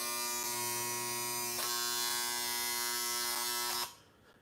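Vintage electric shaver running with a steady loud buzzing hum, close to the listener, with a few small clicks before it switches off abruptly near the end.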